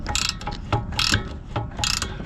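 Ratcheting clicks and metallic mechanism noise as a tool works a tight front strut nut loose on a 1998 Toyota Camry, coming in several short bursts close by, with no talking.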